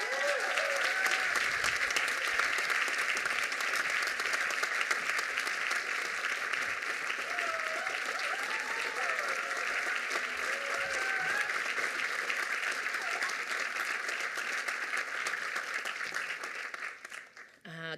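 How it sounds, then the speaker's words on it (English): Sustained audience applause at a university graduation ceremony, dense steady clapping from a large crowd for about seventeen seconds before fading out at the end. "Let's give a great round of applause."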